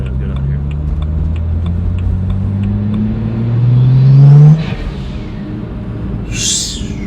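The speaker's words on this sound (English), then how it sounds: "Loud, man. This car's loud." A loud BMW with a twin-turbo N54 engine accelerates hard from inside the car, the engine note climbing through the gear before easing off, with a brief hiss near the end.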